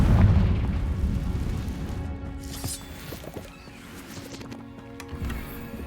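A Confringo spell bursts in Hogwarts Legacy with a heavy, close boom at the start that rumbles away, followed by a few smaller crackling pops.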